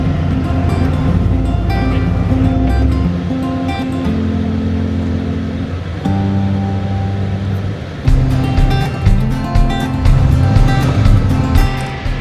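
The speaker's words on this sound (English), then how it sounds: "He's in four-wheel drive with a pretty heavy load, so it is sloppy wet." A four-wheel-drive truck carrying a heavy load of wood chips stuck in sloppy wet mud, its engine roaring loudly and straining in long sustained bursts, dropping off briefly before surging again with gritty churning.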